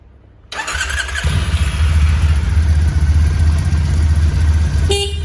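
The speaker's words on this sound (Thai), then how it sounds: "มาผมสตาร์ทให้ฟังเสียงนะครับ" A 2015 Triumph T100 Black motorcycle with stock exhaust fires up after a brief silence, settling into a loud, steady, deep idle rumble, with a short sharp tone near the end.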